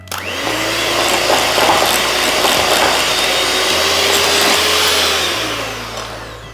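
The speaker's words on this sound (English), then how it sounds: "And whisk again." Electric hand mixer whisking chocolate chip mini loaf batter, a steady loud motor whine with shifting pitch as the beaters work, running continuously and alone before easing off at the end.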